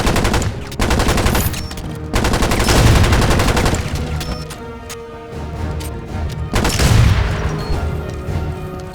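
Gunfire in the video game Enter the Matrix at a power plant, loud close bursts of rapid automatic fire in several long volleys with short gaps and heavy impacts between them.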